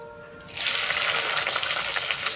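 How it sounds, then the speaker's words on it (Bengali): Bitter gourd hits a hot wok and bursts into a loud, close sizzle that starts abruptly and keeps hissing steadily to the end. "আমার কড়াই গরম হয়ে গেছে এবার আমি উচ্ছে দিয়ে দেবো"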